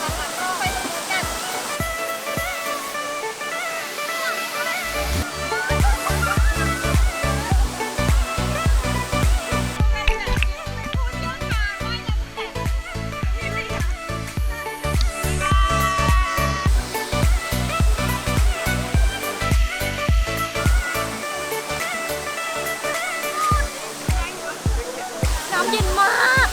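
A waterfall in a Thai forest roars steadily and loud, its rush blending with upbeat music and a rhythmic beat layered over it throughout.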